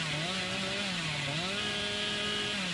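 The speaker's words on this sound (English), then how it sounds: "Billy's so slow though with the chainsaw like this" The revving chainsaw of the killer Billy in the video game Dead by Daylight drones steadily throughout, with its engine pitch dipping and rising again partway through.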